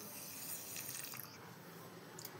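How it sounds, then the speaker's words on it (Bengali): Water is poured over mustard and poppy seeds with green chilli left to soak, a faint, brief trickle and splash heard close up and alone in a quiet room. "জল দিয়ে দিব"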